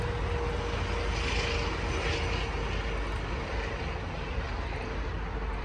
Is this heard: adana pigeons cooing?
no